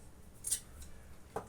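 Scissors snipping fabric for semi-patiala pants, two faint quick cuts in a quiet room with no talking.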